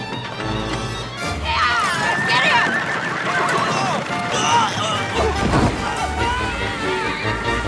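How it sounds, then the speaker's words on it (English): Horses neigh and gallop in a frantic chase scene set in a small Missouri town, whinnies rising over a continuous, loud clatter of hooves and crashing commotion. "Get the horses!"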